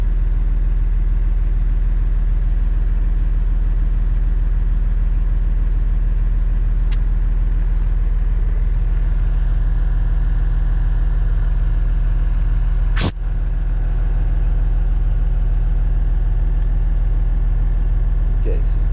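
A truck engine idles steadily while its airbags are aired up, a constant low rumble throughout, broken by a faint click partway in and a sharp, loud hiss of air about two-thirds of the way through; no talk.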